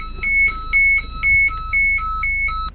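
A DSC distress alert sounds from a sailboat's marine radio, with loud, evenly spaced electronic beeps that repeat about twice per second over low background rumble.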